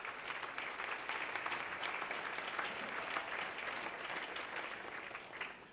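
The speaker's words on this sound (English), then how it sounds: "How about a round of applause for those teams?" Sustained, steady applause from a banquet audience honoring high school athletic teams, many hands clapping evenly for several seconds with no talk.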